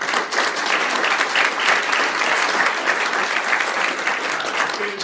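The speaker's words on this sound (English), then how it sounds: "Can we just give him a round of applause?" A conference audience gives sustained, loud applause, a dense and even roar of many hands clapping without pause for several seconds.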